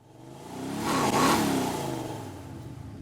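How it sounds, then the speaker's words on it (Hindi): A muscle car passes with its sample played in reverse and panned from left to right, the engine roar swelling to a loud peak early on before trailing off slowly. "उसके बाद यहाँ पे एक और ट्रांजिशन आता है जहाँ पे ये कार का हमने साउंड यूज़ करा है"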